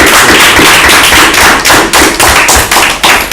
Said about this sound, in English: Just a round of applause for Mr.